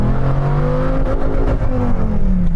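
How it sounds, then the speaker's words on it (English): A Dodge Viper's engine roars and climbs steadily in pitch as the car accelerates hard on a timed run, loud and close throughout with no talking. "Now Kev has warmed the tyres for me, I'll give it one more go"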